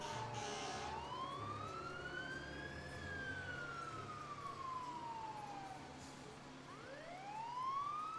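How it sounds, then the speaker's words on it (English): Fire truck sirens wail with slow rising and falling sweeps during a Santa parade in Milford, a second siren starting to overlap near the end, over a steady engine rumble. "A lot of sirens going off, folks."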